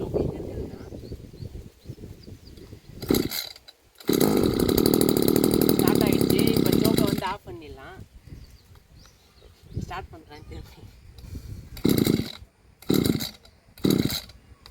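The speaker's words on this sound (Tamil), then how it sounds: "ஸ்டார்ட் ஆகலை, அதனால் இப்போ சோக் போட போகிறோம்." An agricultural sprayer engine, choke on, is pulled over in short bursts, then catches and runs roughly for about three seconds before dying; more brief start attempts follow, with talk in between.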